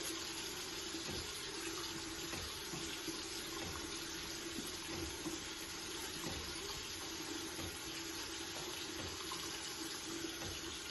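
A tap runs steadily during a hand wash, water streaming continuously and evenly at close range for the whole stretch, with no voices.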